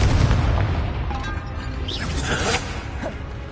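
A Confringo fire spell bursts in Hogwarts Legacy, a deep booming blast with a whooshing rush and bright crackling, loud and close, set against continuous game combat noise.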